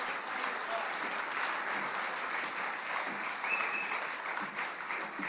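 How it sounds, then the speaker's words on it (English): Warm, sustained applause from a large audience at a solidarity convention greets a chief taking the stage, an even wash of clapping throughout. "can we please welcome him with a warm welcome of applause"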